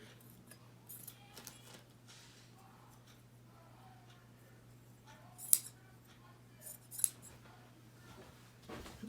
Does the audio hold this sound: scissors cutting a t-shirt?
yes